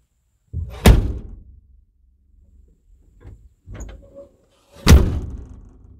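A door slams shut with a loud, booming bang, followed by a few softer knocks and thuds, then a second heavy slam a few seconds later, all close by.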